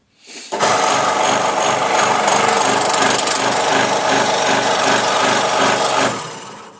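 A scroll saw cuts fascia board that is not pressed down, so the workpiece flaps against the table. The result is a loud, continuous, close rasping clatter that starts abruptly and runs about six seconds before tailing off.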